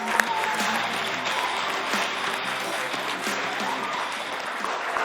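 A group of children claps in sustained, lively applause, many hands patting unevenly at close range with no speech over it.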